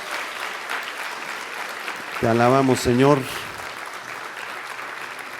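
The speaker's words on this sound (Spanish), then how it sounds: "Dale un aplauso de gloria a Jesús" A church congregation applauds to give glory to Jesus during a worship service, a steady broad wash of clapping throughout with a short spoken phrase of praise rising over it in the middle.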